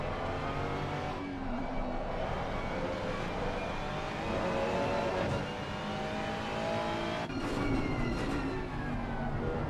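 A GT3 race car engine drones loud and steady on an onboard lap of Oulton Park in a racing game, revving through gears with brief dips at shifts.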